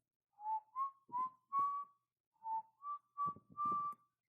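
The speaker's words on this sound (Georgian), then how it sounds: "სტვენას ყოველთვის ერთი მელოდია აქვს." A cheerful whistled melody of two short phrases, each a run of four rising, clear notes, close and alone with silence between the phrases.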